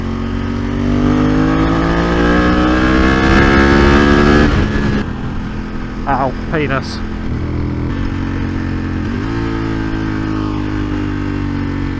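Ducati 916 motorcycle, a 29-year-old bike, revving hard while being ridden, its rising engine note loud and close for several seconds before easing to a steady drone, with a rider's voice heard briefly over it.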